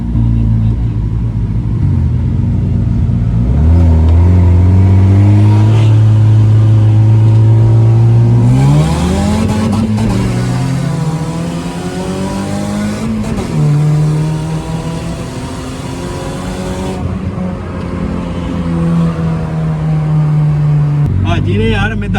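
Two 1500cc cars, a Suzuki FX and a Swift GTI, rev and accelerate hard in a street race, engine pitch climbing and shifting repeatedly over a loud steady roar, with voices talking over it.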